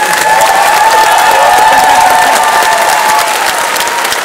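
An audience at a stand-up comedy show breaks into loud, sustained applause, a dense wash of clapping hands from a crowd filling the room, with a few cheers mixed in.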